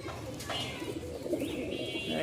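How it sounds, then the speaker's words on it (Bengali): Male Giribaz pigeon cooing in a cage, a soft, low, rolling coo heard close and fairly steady over a faint background murmur. "দেখেন নরের ডাক দেখছেন"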